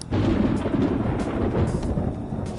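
Thunder in the Persona 5 Royal video game: a loud, sustained low rumble that rolls on continuously for a couple of seconds before rain, with no voices.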